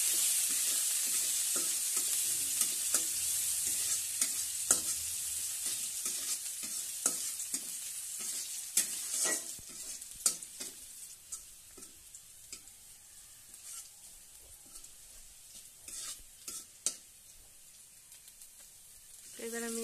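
Chopped onion sizzles in hot oil with black cumin seeds, a steady crackling fry with frequent spatula scrapes and stirs, close but moderate in level, fading slightly toward the end.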